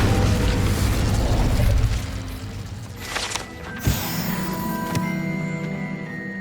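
The Incendio fire spell is cast in the video game Hogwarts Legacy, a dense roaring blast that fades after about two seconds, then a sharp pop and softer mechanical clicks over a steady background.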